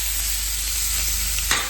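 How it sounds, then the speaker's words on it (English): Onions and leftover tomahawk ribeye steak frying in a pan, a steady close sizzle with a brief stirring scrape near the end. "We got our onions frying up nice."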